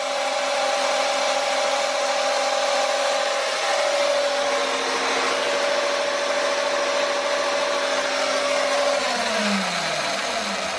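A KO Factory Spec electric RC motor spins steadily under test by an ASI BAC4000 auto-tune controller, giving a loud, constant whine with sustained tones that hold, then slide down in pitch as it winds down near the end.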